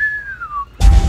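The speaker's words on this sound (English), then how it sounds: "I'm whistling because I'm going to" A person whistles a single long, gliding tone that slowly falls in pitch, clear and alone for most of a second, before a burst of louder noise cuts in.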